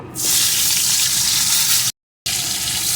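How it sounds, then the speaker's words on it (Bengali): Cut potato pieces frying in oil tempered with whole cumin, a loud dense hiss that surges up at the start and holds steady, with a brief cut to silence before resuming. "আলুটাকে একটু ভেজে নেব"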